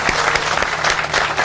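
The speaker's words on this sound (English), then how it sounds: "Can we give her a round of applause?" Brief burst of dense, lively audience applause at an outdoor library groundbreaking ceremony, steady clapping from a crowd close by.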